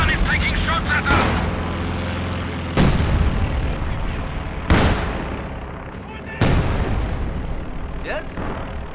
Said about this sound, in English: The AT gun is taking shots at us!